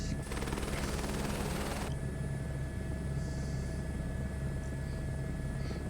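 Helicopter in Microsoft Flight Simulator 2024 flying the Leh to Manali route, a steady dense rotor and engine drone with a harsher buzzing burst over the first two seconds before settling into a constant hum.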